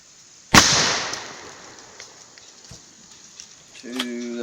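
An Airforce Texan .457 air rifle fires once with a sharp, loud crack into pumpkins, and the report fades over a second into quiet outdoor background, followed by a brief tonal sound near the end.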